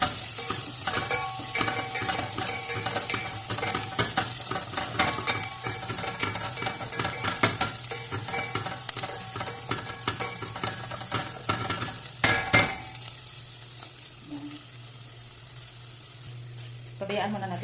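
Onions sautéing in a pan for chicken with garbanzos, a steady close sizzle and frying crackle running throughout with occasional stirring scrapes, no talking.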